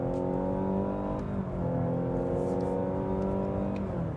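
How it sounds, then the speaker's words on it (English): A Mazda CX-60 plug-in hybrid accelerating in sport mode after a downshift, with a steady engine drone rising gently in pitch, heard close from inside the cabin. "It's dropped down a gear, you can hear the engine kick in"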